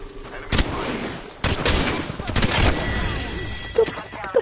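Gunfire in a battle-royale video game match, sharp repeated bursts of shots with cracks and impacts crowding a busy mix, close and loud.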